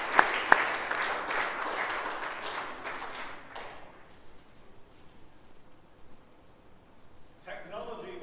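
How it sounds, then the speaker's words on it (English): Applause at a school end-of-term assembly, many hands clapping loudly at first and then fading away over several seconds into quiet, before a voice begins to speak. "if we could have a round of applause for Harry, Ewan, Charlie and William in Year 8"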